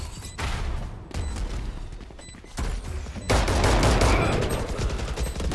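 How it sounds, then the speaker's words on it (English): Dense gunfire from a tactical shooter match during a grand-finals esports event, with rapid bursts and loud continuous firing that swells toward the end, mixed with game effects. "Tries to go for a flashbang and gets the kill into Cypher."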